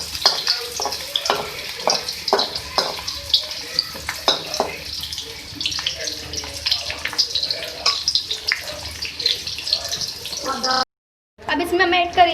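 Onions frying in half a cup of ghee for a mixed dal tempering give a steady close sizzle with scattered crackles and occasional stirring scrapes, under intermittent talk, before a brief cut near the end.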